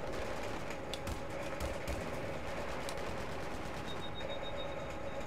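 Rapid bursts of gunfire rattle in quick repeated volleys, fairly close, against a steady electronic background hum, in Battlefield 3 co-op on PS3.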